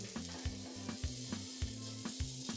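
A homemade chicken burger sizzles in a pan, a steady close frying hiss with a regular, repeating low thump-like pulse running through it.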